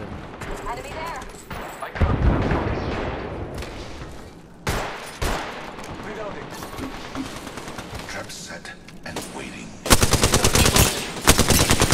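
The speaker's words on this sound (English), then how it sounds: "Getting shot at." Rapid bursts of automatic gunfire and scattered shots crackle through a video game firefight, loud and dense with near and distant volleys, while players talk over the shooting.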